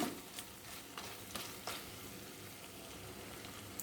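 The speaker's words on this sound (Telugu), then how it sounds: "ఇలాగే మూత పెట్టకుండా వేపుకుంటున్నాను" Mutton chops frying in an open, uncovered pan give off a soft, steady crackle with a few sharper pops scattered through it. The sound is fairly faint and comes alone, with no talking.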